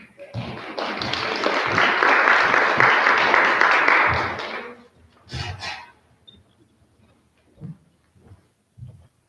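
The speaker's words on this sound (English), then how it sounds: "I'm pretty sure Marky Mark got more applause than I did" An awards ceremony audience claps in a swell of applause that builds for about four seconds and fades, followed by a few scattered thumps and brief talk.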